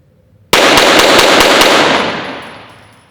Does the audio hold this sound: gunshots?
yes